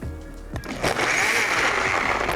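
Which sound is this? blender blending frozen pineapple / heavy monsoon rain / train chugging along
blender blending frozen pineapple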